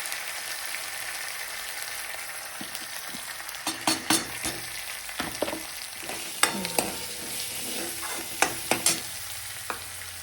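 A spoon stirs mashed green peas through a thin peas curry frying in a pan, with a steady sizzle underneath and several sharp scraping clatters from the spoon coming in clusters, close and fairly quiet.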